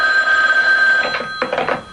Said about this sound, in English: Every time the phone rang